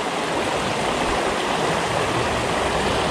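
Water gushes steadily out of two spillway holes into a fishing spot, a loud, continuous broadband rush like a small waterfall that stays unbroken and close throughout.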